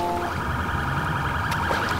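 Ambulance siren in GTA V with the LSPDFR police mod, a loud, steady wailing tone that fills the short stretch without a break and has no speech over it.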